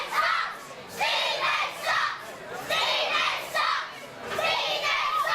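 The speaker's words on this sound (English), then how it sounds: "can hear the crowd, they do not like the original Craig Stevens" Wrestling crowd at a Comic Con No Holds Barred show jeering Craig Stevens, a dense roar of shouting voices rising and falling in repeated loud waves.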